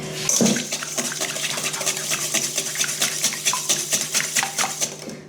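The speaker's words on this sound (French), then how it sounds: "je vais d'abord commencer par mélanger tous les ingrédients liquides" A whisk beats an egg with melted butter in a bowl for chocolate cookie dough. The rapid, rhythmic clinking and sloshing strokes are close and continuous, with no speech.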